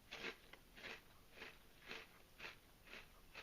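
Barbecue potato popper chips from a ready-to-eat meal are crunched, seven evenly spaced crisp bites at a steady chewing rhythm, close but quiet, with no talk.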